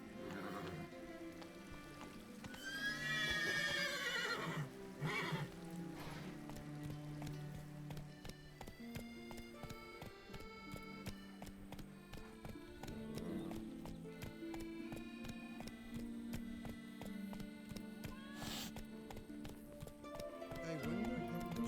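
Roach the horse galloping in The Witcher 3, a steady clip-clop of hooves running under game music and ambience, with a voice speaking briefly near the start.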